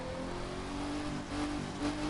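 A car engine in the racing game The Crew 2 drones and revs steadily at moderate volume, a continuous motor hum with slight pitch swells and no talking.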